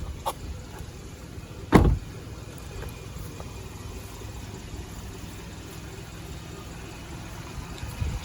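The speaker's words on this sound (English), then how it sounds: "The driver's window is auto down." The driver's power window of a 2013 Kia Optima LX auto-lowers: a short thump, then a faint motor whir under quiet car ambience.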